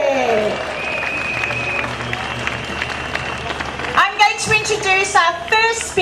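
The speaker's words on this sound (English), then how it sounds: "Round of applause, please." A crowd at a London rally stage show claps and cheers in steady applause, while an amplified voice speaks over it and then a cheer rises near the end.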